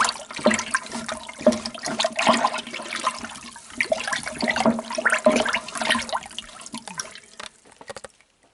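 Mineral water pouring into a mead must in a fermenting vessel, a continuous gurgling, splashing stream with uneven surges for several seconds before trailing off into a few drips.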